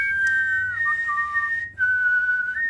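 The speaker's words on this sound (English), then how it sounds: "I hate that these guys are whistling." A person whistles a clear tune, a handful of held notes stepping up and down, close and fairly loud with faint background noise.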